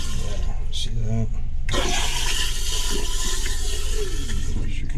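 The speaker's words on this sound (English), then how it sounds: "There's your controls to flush that." A porcelain toilet in a travel van flushes with a short rush of water that settles into a swirling drain, heard close up with someone speaking over it.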